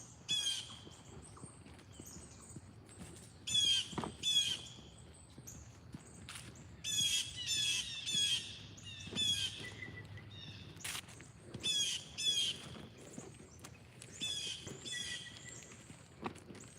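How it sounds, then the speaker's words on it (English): Birds perched in a tree give harsh squawking, crow-like calls in short bursts scattered across the stretch, fairly faint and outdoors against a quiet background with soft movement sounds. "Look at the birds in the tree."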